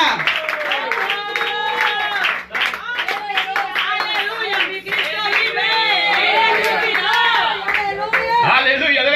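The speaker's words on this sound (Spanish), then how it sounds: "dale ese aplauso al Señor, déselo con vida" A church congregation claps and applauds during a worship service, brisk rhythmic clapping under loud overlapping voices and shouts of praise filling the room.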